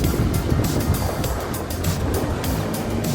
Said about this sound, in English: it's under like 6, 8, 9 inch little waves coming in